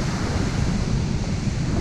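Wind blowing hard at the beach on Oak Island, North Carolina, a loud, steady broadband rush and buffeting against the microphone, with surf mixed in and no voices.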